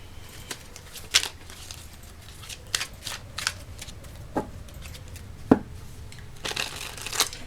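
Playing cards are shuffled and drawn by hand, giving papery flicks and snaps at irregular intervals, close and fairly quiet, with no talking.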